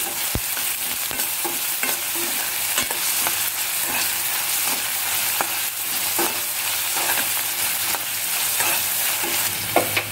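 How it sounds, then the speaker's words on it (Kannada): Finely chopped medium-size onion frying in a pan with garlic for chutney, a loud, continuous close sizzle broken by repeated stirring scrapes and ladle knocks, with no talking. "ನೆಕ್ಸ್ಟು ಸಣ್ಣಗೆ ಹೆಚ್ಚಿದ ಒಂದು ಮೀಡಿಯಮ್ ಸೈಜ್ ಈರುಳ್ಳಿನೂ ಸಹ ಚೆನ್ನಾಗಿ ಫ್ರೈ ಮಾಡ್ಕೊತಾ ಇದ್ದೀನಿ"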